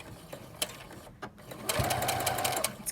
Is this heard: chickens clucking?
no